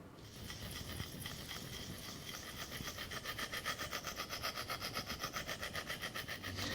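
A knife blade is drawn across a Lansky sharpener stone to polish the edge. Quiet, close rasping strokes build into a steady back-and-forth rhythm of quick, even scrapes.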